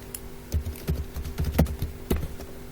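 Scattered computer keyboard key presses tap out a quick irregular rhythm of sharp clicks, faint and close, with no voices.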